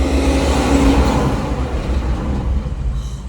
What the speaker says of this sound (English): And another truck.